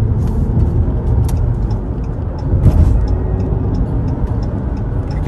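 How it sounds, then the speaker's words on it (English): A 2014 Jeep Cherokee Trailhawk accelerates hard on a road, its engine droning loud and steady as revs climb, with light ticking clicks over the broad rumble and no talking. "as I mash the gas. So you can see it just revs really high"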